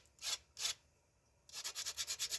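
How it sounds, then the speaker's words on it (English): Rasping strokes of a rubber sanding block across rawhide while trimming a bow's rawhide backing: two separate scrapes, a pause, then a quick steady run of about eight close, even strokes, with no talk. "Kind of sand that off. This is how I trim rawhide. I use a sanding block."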